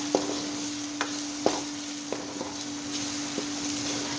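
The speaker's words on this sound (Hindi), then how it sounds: "मसालों को भी अच्छी तरह हम भून लेते हैं।" Coriander powder, cumin and other spices roast in a pan, giving a soft steady sizzle with a few scattered stirring clacks and scrapes; a constant hum runs underneath.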